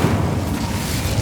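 A Confringo blasting spell goes off in Hogwarts Legacy, a loud, deep explosive boom with a rumbling roar that fills the whole short moment.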